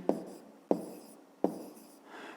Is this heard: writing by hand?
yes